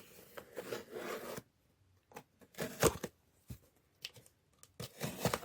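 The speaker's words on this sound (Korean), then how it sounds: "이번엔 그냥 교환을 위해 빨리빨리 뜯어볼게요" Album packaging being torn open, close crinkly ripping and rustling in short bursts separated by quiet pauses.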